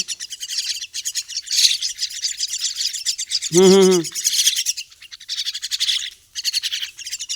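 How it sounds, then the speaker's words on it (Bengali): A hungry flock of small birds, just dried off after rain, chirps densely and continuously during feeding, with one louder, deeper call breaking through midway. "প্রত্যেকটা পাখি প্রচুর পরিমাণে ক্ষুধার্ত।"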